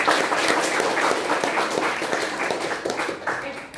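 Students in a classroom give a short burst of clapping, fairly close, with scattered voices mixed in.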